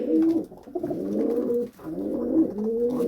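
A newly caught, injured pigeon coos in a repeated rolling phrase, close and clear, with a brief pause midway before the cooing resumes.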